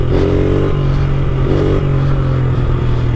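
Pit bike engine revving while being ridden in circles with wheelie action, loud and close, with rising pitch sweeps as the throttle is blipped twice over a steady engine drone.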